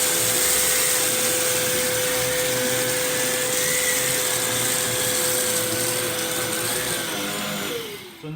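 A VAX Blade 24V cordless vacuum cleaner runs in boost mode with a loud, steady motor whine and airflow roar. It holds near-constant for about eight seconds, then dips and cuts off at the end.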